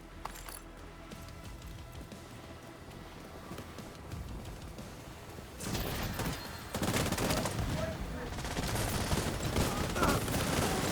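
Video game gunfire crackles as a dense, steady stream of shots, quieter at first and then louder and busier about halfway through, with no clear speech on top.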